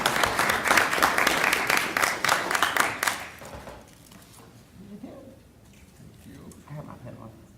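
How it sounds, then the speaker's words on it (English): An audience gives a short burst of clapping, dense and close for about three seconds before it dies away, followed by quiet murmuring and soft talk. "Now you can clap."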